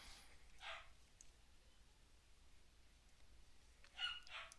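Faint, distant dog barks in the background, a short burst near the start and another near the end, over a quiet room hum with no talking.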